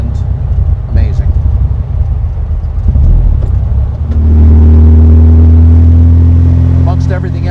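A custom 1960 VW Karmann Ghia with Fuchs-style wheels drives by, its engine rumbling close and loud, then rising to a steady, strained drone as it accelerates; someone speaks over it.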